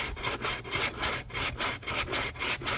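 A sanding sponge rubbing back and forth over the corners of a wooden shelf, a close rhythmic scratchy rasp of about a dozen quick strokes with no talking.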